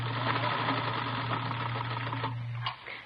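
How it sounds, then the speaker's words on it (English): A sewing machine stitching ruffles onto a brown skirt in an old-time radio drama, a steady mechanical whir with a constant hum that stops near the end and leaves a few faint clicks. "Anyway, I've got this sewing to do. I have to get it finished."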